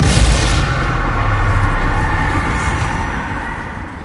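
A Confringo blasting spell explodes in the video game Hogwarts Legacy: a loud, close boom at the start that fades into a long rumbling, hissing decay over several seconds.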